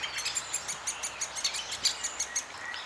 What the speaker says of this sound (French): les chants des oiseaux commencent à se faire entendre.